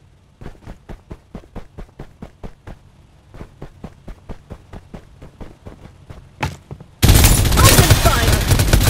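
Rapid bursts of gunfire from the video game Farlight 84, roughly thirty sharp shots in quick rhythmic strings, close and loud, ending in a sudden wall of dense, noisy blasting.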